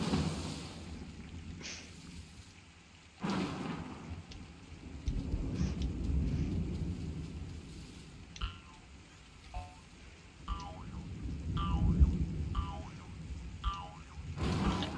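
Rain and thunder in the video game Wobbly Life: a steady rainfall wash with low rumbling swells, plus a few faint chirping tones near the end, no talking.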